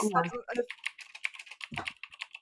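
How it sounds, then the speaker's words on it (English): Rapid typing on a computer keyboard, a quick irregular run of crisp key clicks fairly close by, preceded by a brief moment of talk. "Someone's manically typing in the URL as we speak."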